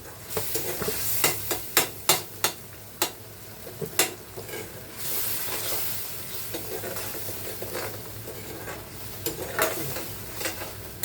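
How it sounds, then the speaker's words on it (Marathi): Tomatoes cook in oil in a pan for a prawn masala, with a continuous sizzle broken by sharp scraping and clinking as a spoon stirs against the pan. "असं तेल सुटेपर्यंत मस्त टोमॅटो शिजवून द्यायचं"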